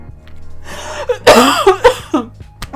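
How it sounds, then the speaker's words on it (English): A person coughs several times in short, harsh bursts close by, with a brief pause and a smaller cough at the end. "I'm so sorry about the cough."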